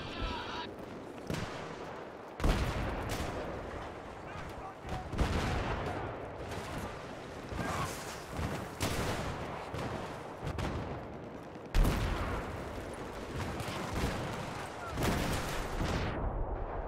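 Gunfire in Battlefield on the Seine Crossing map: repeated sharp shots and bursts with louder blasts standing out, under a constant battle din, with players talking over it.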